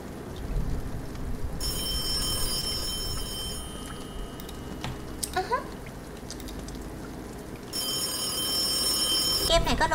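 A phone rings in a horror video game, bursts of bright electronic trilling that start, stop, then return, heard over rain-like background noise with brief talk in between.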